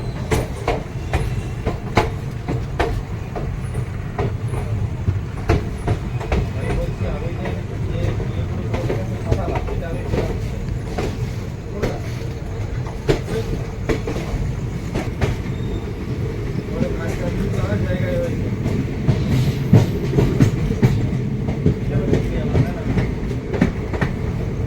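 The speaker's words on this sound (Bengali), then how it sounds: "ফাইনালি রামপুরহাট স্টেশন ছেড়ে ট্রেন বেরিয়ে যাচ্ছে।" The Gour Express pulls out of Rampurhat station, wheels and carriages rumbling with a steady clickety-clack and rattling jolts throughout, heard from inside the train with a few voices in the background.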